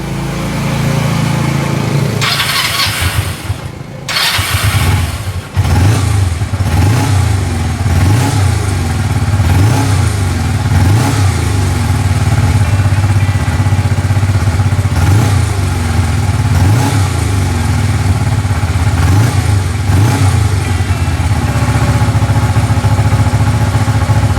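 A Honda CB125T motorcycle with freshly cleaned and refitted carburetor, choke pulled, cranks with a brief burst, fires up and settles into a steady, loud, close-up idle with a slightly uneven throbbing pulse; no talking.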